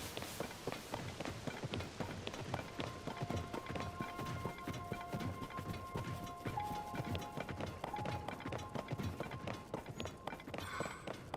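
A horse's hooves clip-clop steadily in Zelda: Tears of the Kingdom, a running rhythm of close, distinct hoof thuds continuing throughout, with a faint tonal game sound drifting underneath and no speech.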